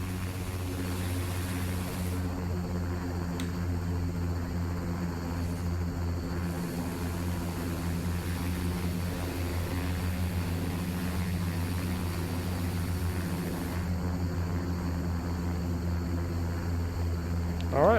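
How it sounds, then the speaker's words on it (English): A King Air 350's propellers in beta in a flight simulator game, a steady, droning propeller and engine hum holding even and loud for the whole stretch. "I love hearing these props in beta"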